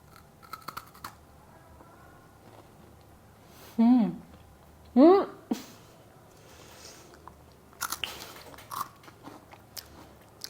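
A melted matcha KitKat is bitten and chewed with soft crunching and scratchy mouth sounds, interspersed with brief voiced vocal sounds, mostly quiet and close.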